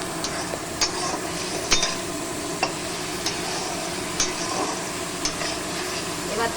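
Spice paste for pabda fish curry sizzles in a pan while being stirred, a steady frying hiss broken by periodic sharp clinks of a spatula against the pan, close and moderately loud, no talking.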